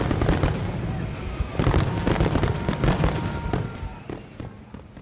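Fireworks and firecrackers set off at a July Fourth-time celebration in the Kansas City area crackle and bang in rapid irregular bursts, near to mid-distance, fading slightly toward the end.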